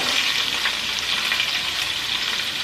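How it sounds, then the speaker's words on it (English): Carrots go into a very hot pot of pot roast, giving a steady, bright sizzle with bubbling that holds at an even level throughout, close by and with no talking. "I'm gonna go ahead and put the carrots in"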